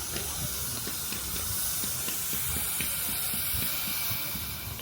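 A small narrow-gauge steam locomotive at the Frankfurt Feldbahn Museum releasing a continuous, even hiss of steam, close by and moderately loud, with faint mechanical ticking underneath.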